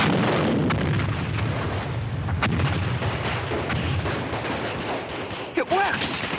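Soldiers firing guns at targets in a war film, a dense, loud burst of rapid gunfire and booming shots sustained throughout, with a shouted voice briefly cutting in near the end.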